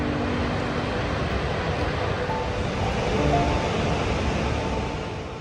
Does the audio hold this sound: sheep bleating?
no